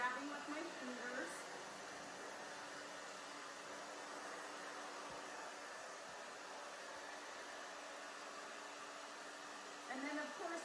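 A handheld hair dryer blows steadily while drying thick hair forward during a bob haircut, a continuous airy whir holding at an even level for the whole stretch, with a slight rise in loudness near the end.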